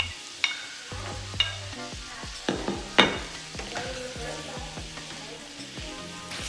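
Shrimp cooking in a hot pan with a steady crackling sizzle throughout, punctuated by sharp clinks and scrapes of a utensil against the pan, close and moderately loud.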